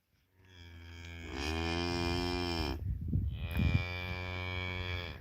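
Cattle lowing on a hay farm: two long, loud, close moos, the second rising and sustained, with a short rustling break between them.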